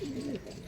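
A male Andhra pigeon gives a single brief, low cooing call, soft and close, with a falling, throaty contour and nothing else around it.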